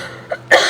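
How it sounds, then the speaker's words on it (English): A single short cough sounds sharply after a faint throat noise, close and fairly loud, with no talking. "So, that made me cough."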